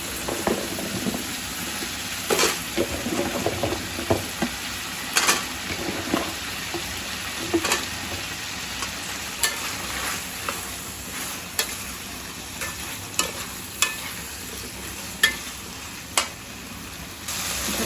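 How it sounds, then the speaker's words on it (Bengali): Okra sizzles in hot oil in a pan, a steady frying hiss broken by regular scrapes and clicks of stirring, close and fairly quiet, with no voices. "এবার আমি ভেন্ডিগুলো দিয়ে দেবো।"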